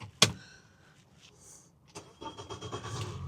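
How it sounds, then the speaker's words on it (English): A boat engine being started during a man-overboard system test on the water: a sharp click, then a quiet pause before the engine cranks and catches into a steady running rumble. "start the engine"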